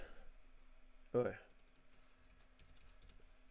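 Typing a project name on a computer keyboard: a quiet run of light key clicks, then scattered taps after a brief thud-like burst, close up under a low background hum.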